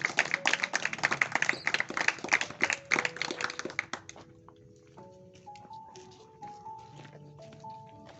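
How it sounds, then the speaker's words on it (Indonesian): A classroom group claps in a burst of brisk, overlapping applause for the first few seconds, then the clapping thins and fades. Soft tonal sounds and a few scattered taps follow. "Tepuk tangan untuk kalian yang sangat luar biasa."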